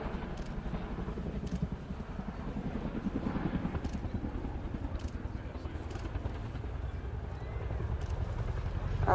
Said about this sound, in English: the unique ability of the Chinook helicopter to fly sideways